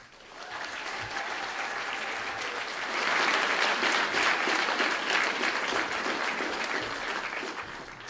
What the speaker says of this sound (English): I do think they deserve one more round of applause.